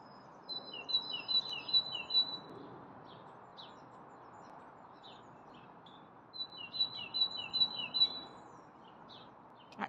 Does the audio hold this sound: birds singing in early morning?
yes